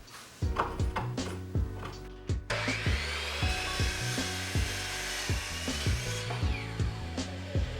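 Red oak boards for a shelf being cut by a power saw, with a whirring, droning motor and a series of sharp, regularly spaced strikes over a sustained rising whine.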